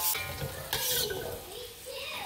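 Orange peel shrimp sauce cooks in a hot pan with a steady sizzle, stirring scrapes and a brief louder burst of bubbling, close and continuous with no talk.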